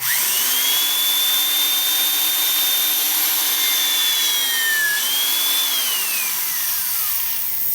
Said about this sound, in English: This is a 3 amp drill.